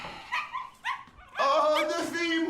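A pet dog yips and barks in short bursts indoors, near and fairly loud, with a person's voice mixed in.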